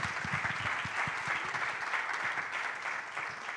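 Steady applause from a conference audience at a 2025 innovation summit, a dense, continuous wash of clapping that holds at an even level throughout, with no talk over it.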